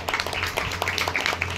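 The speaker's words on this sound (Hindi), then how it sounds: "तालियां हो गई है।" Audience clapping at a yoga event, a dense, steady patter of many hands sustained throughout under a low hum.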